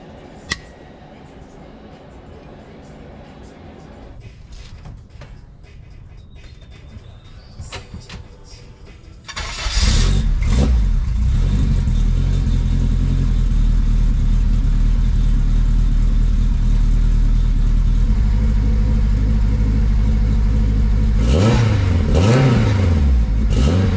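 A car with a newly fabricated axle-back exhaust starts up and settles into a loud, steady, deep idle close by, with a few brief revs near the end, after quieter shuffling sounds.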